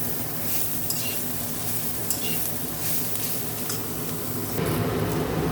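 Potatoes frying in a pan while being stirred, a steady sizzle with scraping and clinks of a utensil against the pan, close and continuous, louder toward the end.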